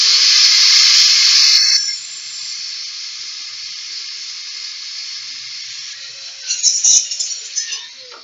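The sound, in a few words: air blower cleaning PlayStation 3 disc drive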